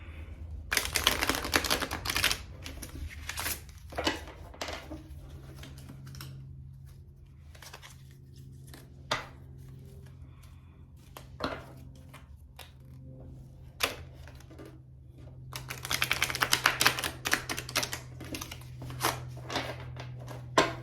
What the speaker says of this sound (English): Sometimes when there's like a lot of cards, I just like to cut my deck in half